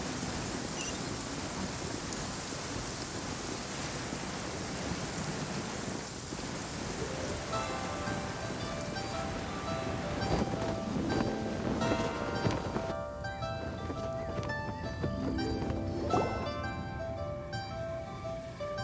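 Steady rain falls in Genshin Impact game audio, a constant wash throughout. A soft tonal music layer rises over the rain in the second half.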